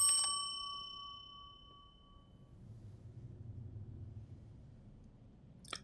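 A single bell is struck once and its bright, ringing tone fades slowly over about two seconds, leaving a low rumble, with a faint second tap at the very end.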